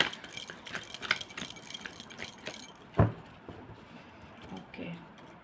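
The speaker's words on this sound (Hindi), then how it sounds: "this is my last shuffle spirits" A deck of tarot cards is shuffled, producing a soft, close, fluttering rattle of cards riffling for a couple of seconds. A light tap follows, then quieter handling, with faint speech in the background.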